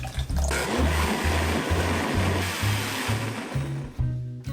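A blender whirs steadily as it purees a thick vegetable soup thinned with broth, its motor pulsing in short cycles with a brief pause near the end.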